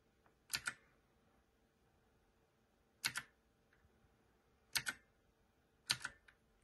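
Buttons pressed on a MageGee 60% portable gaming keyboard: four sharp, close clicks, some doubled, spaced a second or two apart in a quiet room.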